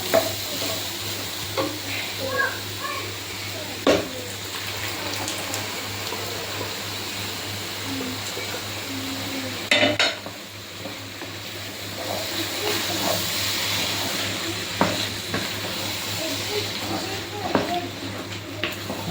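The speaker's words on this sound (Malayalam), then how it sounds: "ആലു ഇട്ട് നന്നായിട്ട് മിക്സ് ചെയ്തു" Boiled potatoes are stirred into a sizzling soybean curry in a pan, with a steady frying hiss, scraping spoon strokes and a few sharp knocks against the pan, while someone talks over it.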